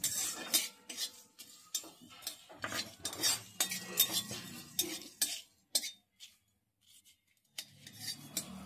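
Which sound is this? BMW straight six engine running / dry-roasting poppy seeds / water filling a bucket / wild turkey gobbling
dry-roasting poppy seeds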